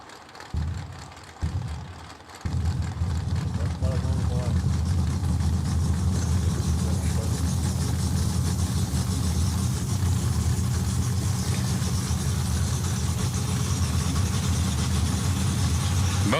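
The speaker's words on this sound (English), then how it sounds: "They must be trying to build a little heat in the engine." Old-school drag racing cars idle at the start line of a bracket race to build engine heat. A low, continuous engine rumble swells loudly after a couple of seconds and holds steady.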